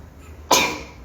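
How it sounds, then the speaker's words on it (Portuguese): A single abrupt sneeze bursts out close to the microphone, sharp at onset then trailing off quickly, with no talking around it. "Eu vou espirrar."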